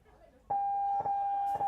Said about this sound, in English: running up to hit the buzzer